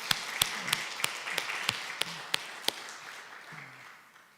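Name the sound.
audience applause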